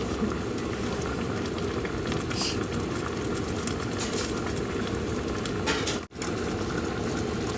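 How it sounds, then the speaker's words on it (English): Fish stew thickened with slurry simmers in a pot, giving a steady, continuous bubbling hiss that holds evenly throughout with a brief dip near the end. "So we'll let it simmer for a couple of minutes until it's done."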